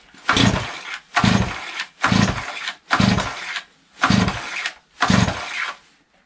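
Stihl TS400 cut-off concrete saw on half choke being pull-started six times in a row, each pull a loud burst of engine cranking that sputters without catching.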